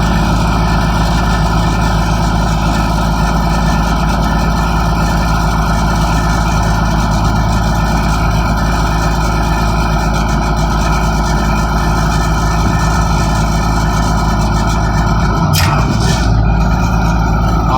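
The engine of a car crusher runs loud and steady while its hydraulic cylinder retracts, giving a continuous heavy rumble with no pauses and a brief change near the end.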